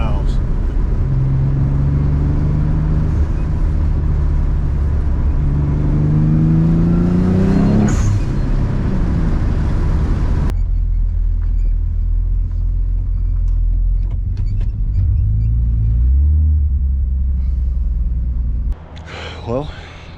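A Nissan 300ZX engine revs up in rising sweeps with a blow-off valve hiss and whoosh, then idles in a low rumble while someone talks nearby, with another short rev near the end.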